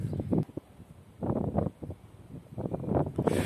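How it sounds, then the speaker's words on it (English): Gusts of wind blow across the microphone in a park in Galicia, coming in low rumbling bursts that rise and fall with short calmer gaps between them, near and fairly quiet. "So, probably you can hear the wind, right?"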